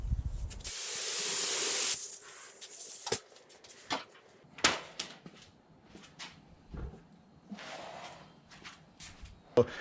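HVLP spray gun spraying lacquer, a short hissing burst of spray near the start, followed by scattered knocks and handling noises with some quiet voice in the background.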